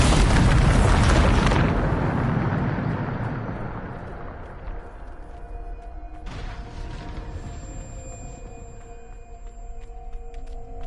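A Bombarda blasting spell explodes in Hogwarts Legacy with a loud, deep boom that rolls out and fades over several seconds into a quieter rumbling tail.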